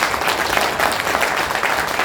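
An audience claps at a training session in tribute to mothers, a continuous, even crackle of many hands close to the microphone, with no voices over it.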